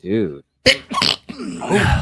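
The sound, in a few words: sneeze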